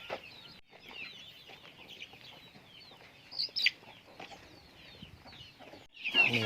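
A small flock of free-range village chickens clucks and murmurs nearby in scattered soft calls, with a louder squawk near the end.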